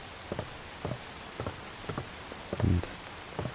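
Rain patters at night in the open world of Watch Dogs, falling on leaves and grass, with a soft steady hiss broken by periodic louder drops and one heavier splash near the end, no voices.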